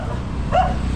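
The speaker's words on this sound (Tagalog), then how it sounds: "Nako, may aso pa nga ating dadaanan." A single short dog bark or yip cuts through a steady rumble of background noise, fairly close.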